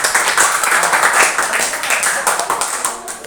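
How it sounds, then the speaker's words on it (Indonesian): Children clapping their hands in a classroom, a loud, close burst of brisk, uneven clapping from a small group lasting a few seconds. "Nah, berikan tepuk tangan dulu."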